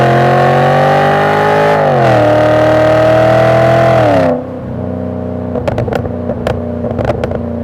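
Volvo S80 with a Yamaha V8 engine and custom exhaust revs loudly and steadily, pitch climbing in stages before dropping off to a rumbling idle with a few sharp throttle blips near the end.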